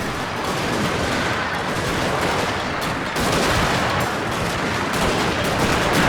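Dense, continuous massed gunfire in the Total War: Shogun 2 video game crackles over a battle between marines and rocket cavalry. The volleys overlap into a loud, rattling wall of shots with no pauses.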